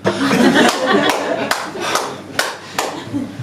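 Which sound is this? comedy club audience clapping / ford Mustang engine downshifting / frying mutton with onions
comedy club audience clapping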